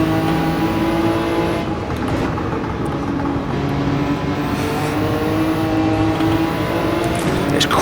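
A race car engine roars continuously in Gran Turismo, a loud sustained drone with shifting pitch as the car works through twisty sections on soft front tyres, with no pauses.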